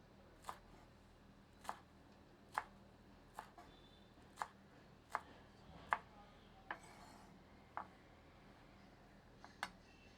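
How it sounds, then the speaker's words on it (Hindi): Sharp, evenly spaced knife taps chopping fresh coriander on a cutting board, about one per second, close and fairly quiet against a soft background hiss. "धनिया के गुच्छे से जड़ को हटाकर इसको साधारणतया काट लेते हैं।"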